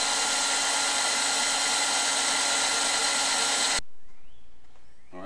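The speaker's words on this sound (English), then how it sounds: "what I'm doing now is drilling screws down to secure it so it won't move around in here" A power drill drives screws to fix a Blackstone griddle in an outdoor kitchen, running in one loud continuous whine for several seconds before cutting off sharply and leaving quiet room sound.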